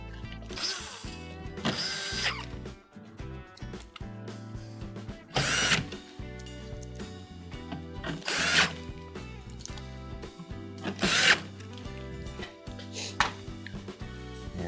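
A power driver reinstalls the screws that hold a GE cooktop in place, heard as several short, close whirring bursts with clicking and ratcheting between them and handling noise in the pauses.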